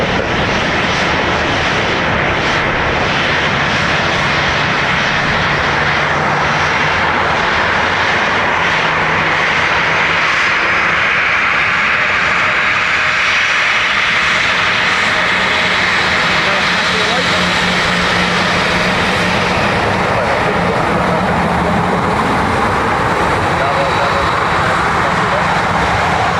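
A jet airliner arriving on runway 28 left at Dublin Airport, a loud, continuous engine roar that swells and shifts as it passes close by, with a voice talking over it.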